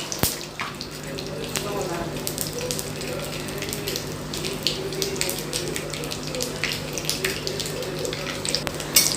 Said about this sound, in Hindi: ई फोड़न के कनी भुजबै।